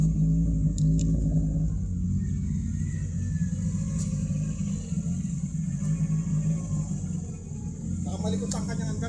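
Engine idles steadily while its carburetor is checked, a continuous low rumble with some unevenness, and people talk nearby over the running engine.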